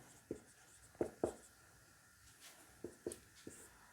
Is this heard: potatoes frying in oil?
no